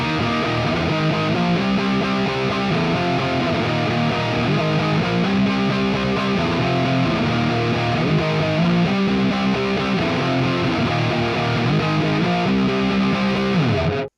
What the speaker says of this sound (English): Maybe we'll see what happens if we actually put it at 10